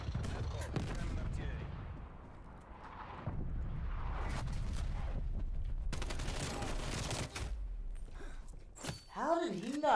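Artillery barrage in a video game: dense bursts of gunfire and heavy blasts crowd together, broken by brief pauses, with a voice speaking over the noise.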